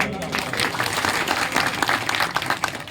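A crowd claps together for a few seconds, dense and steady applause with a voice faintly mixed in, at a devotional bhajan gathering in a Ramdev Pir temple.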